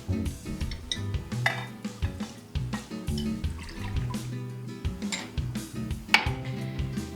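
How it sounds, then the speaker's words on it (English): Cold milk poured into a small saucepan over medium heat, a gurgling liquid pour with metallic clinks and splashes, close and uneven, no talking. "I'm going to add my cold milk"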